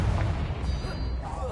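Spell blast explosions in the Hogwarts Legacy video game, deep booming bursts with heavy low rumble and crackling debris, loud and dense across the whole moment.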